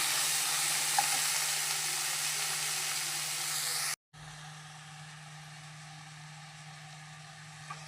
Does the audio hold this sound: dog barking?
no